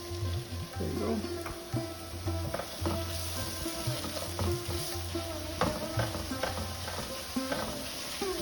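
Onions frying and sizzling in a pan of oil for a dry chicken sukka, a steady crackling hiss with occasional scrapes and clinks of stirring, fairly close and continuous throughout.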